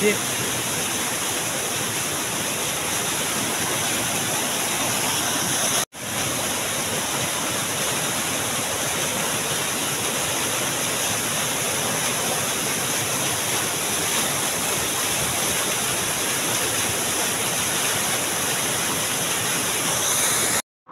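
Badkaguda waterfall roars in a continuous, loud, broadband rush of falling water, nearby and unbroken apart from a brief dropout a few seconds in.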